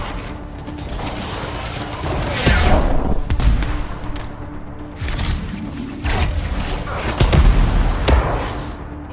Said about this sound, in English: So my gun weirdly shoots when it reloads.